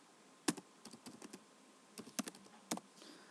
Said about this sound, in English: The user has to type in the date they want to go in